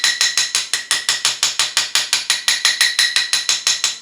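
A hammer taps on a small toy car axle held in vice grips, about four sharp metallic clicks a second in a very regular run, close and bright.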